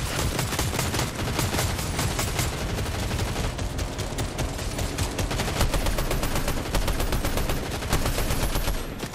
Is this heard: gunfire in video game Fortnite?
yes